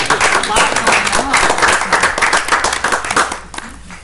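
Applause fills a village board meeting room, a dense, steady wash of many hands clapping that carries on for several seconds before thinning out, with voices talking over it.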